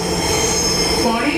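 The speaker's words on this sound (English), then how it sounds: "So this is our train." A Dhaka metro rail train pulls into a station with a loud, sustained high-pitched wheel squeal over a rumbling hum, close by and continuous.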